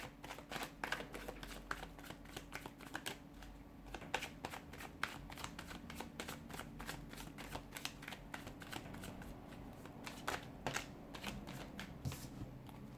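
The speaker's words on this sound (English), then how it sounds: "let's go ahead, give the cards a shuffle" Tarot cards are shuffled continuously for over ten seconds, a close, soft riffling with dense rapid flicks and brief pauses between bursts, and no voices.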